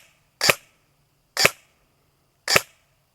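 Three sharp, evenly spaced pops from an ASG Scorpion Evo airsoft gun fired semi-auto, each a short crisp crack about a second apart with quiet between.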